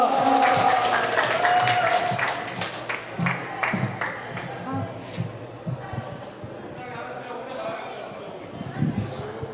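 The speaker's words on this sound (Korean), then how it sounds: "우리 박수 좀 부탁드리겠습니다" An indoor audience at a progressive politics forum in Korea gives a welcoming round of applause that starts strong and thins into scattered claps, with a voice speaking through it.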